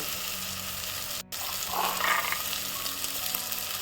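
Fresh green peas tipped into a hot pan of oil for pulao give a steady, close sizzling hiss, with a brief gap and a small surge of frying crackle midway; no one speaks.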